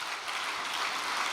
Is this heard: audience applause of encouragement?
yes